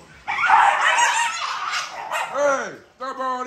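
A dog barks and yips close by, ending in a short sharp bark followed by a tonal whine.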